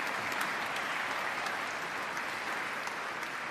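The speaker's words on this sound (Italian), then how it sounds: "Monsignor Gero Marino, il Vescovo di Savona, che accogliamo con un applauso." A church congregation applauds a bishop during a New Year's Eve Mass, a dense, steady wash of clapping hands that fills the whole stretch at even loudness.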